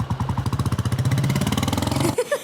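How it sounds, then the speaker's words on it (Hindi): A motorcycle engine putters close by in rapid, even pulses as the bike is parked, cutting off abruptly near the end. "मैं बाइक पार्क करके आता हूँ"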